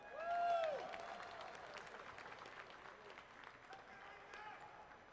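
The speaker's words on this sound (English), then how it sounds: "give everybody a round of applause for Hiko" Audience at a Twitchcon esports event applauding a player, a thin, quiet patter of clapping heard at a distance beneath arena noise and a brief rising tone near the start.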